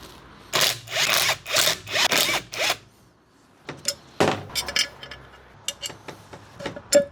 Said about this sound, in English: So let's remove these 4 bolts with a 10mm socket.